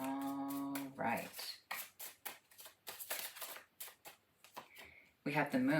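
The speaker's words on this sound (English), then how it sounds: "I'm going to get you a riffle shuffle." A quick riffle shuffle of playing cards, a crisp fluttering burst of card snaps between stretches of talking.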